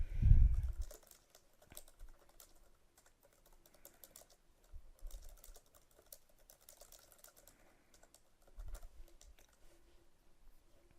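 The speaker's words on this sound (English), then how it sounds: "Begin typing in your question." Soft, rapid keystrokes on a computer keyboard, entering a question to create a poll, faint and close, in irregular bursts with a louder thump at the start.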